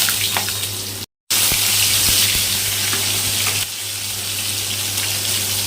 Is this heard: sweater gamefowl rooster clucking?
no